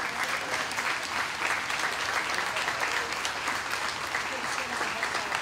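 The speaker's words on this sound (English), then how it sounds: "Let's give George a round of applause." A room full of people at a church service applauds steadily and loudly for several seconds, a dense even wash of clapping with faint crowd murmur.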